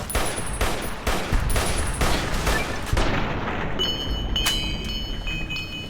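Rapid bursts of gunfire from a firefight in Fallout: New Vegas, a string of loud, evenly spaced shots in the first half giving way to a denser clatter with sharp reports and ringing tones, no talking.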